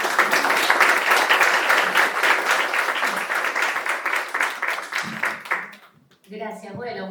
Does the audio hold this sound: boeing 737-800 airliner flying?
no